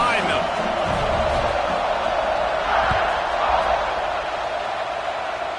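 A football stadium crowd roars before kickoff, a dense, continuous wash of cheering and noise that stays loud and steady throughout, with faint thuds now and then.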